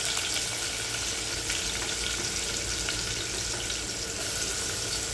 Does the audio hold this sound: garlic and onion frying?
yes